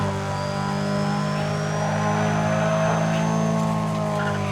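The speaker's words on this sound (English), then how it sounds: "the stock sound is exactly just the upgraded Hachiroku sound" Upgraded Hachiroku (Toyota AE86) engine from a Need for Speed ProStreet mod drones loudly and steadily at high revs, with a faint rising whine laid over the constant roar and no talking.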